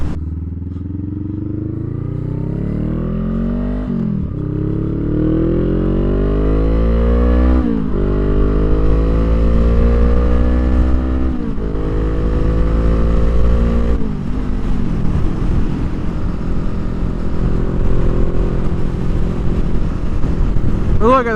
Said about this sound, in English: we got a full throttle acceleration in on this video